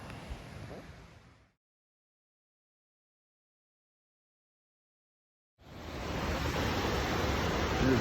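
Steady roaring rush of a waterfall in the Wind River Range, a dense broadband wash that cuts out to near silence midway and then returns loud and continuous, with no voices.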